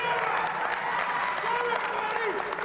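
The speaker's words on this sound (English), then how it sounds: "the crowd showing appreciation for Abercrombie's efforts" A pro wrestling crowd applauding and cheering after a match, a steady, dense wash of clapping and whoops filling the arena, loud and continuous throughout.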